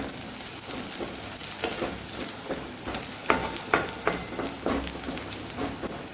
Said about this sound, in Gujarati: ડુંગળીનો કલર ચેન્જ થાય ત્યાં સુધી આપણે એને સાતળવાની છે